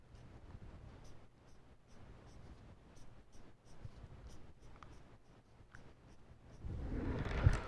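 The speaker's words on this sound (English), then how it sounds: "This is my wick material, okay, which I am drawing with the green ink." A green ink marker squeaks and scratches across a board in short, repeated strokes at close range as a wick shape is drawn, followed by a rising rustle near the end.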